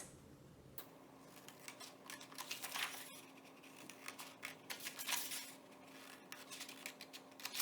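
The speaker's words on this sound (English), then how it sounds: "we're gonna take our scissors and we're going to cut every other line just to the center box like this." Scissors cut paper for a pop-out box: quiet, close snipping and crisp paper rustle in short uneven bursts, faint overall with no talking.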